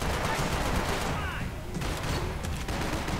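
Blind gunfire in Max Payne 3 during a bar brawl, a sustained loud volley of rapid shots and impacts filling the scene, with scattered crashing debris and a voice occasionally underneath.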